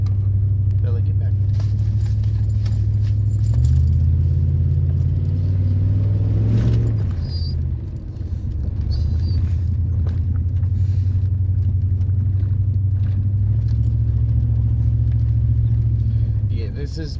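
A 1998 Ram truck with a Trac-lok differential drones and whines steadily while driving, a loud low hum that shifts pitch partway through, with road rumble and occasional voices underneath.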